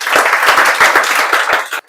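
Audience applause after an IIT Kanpur exam result, a burst of dense, fairly loud clapping with sharp individual claps, lasting almost two seconds before cutting off abruptly.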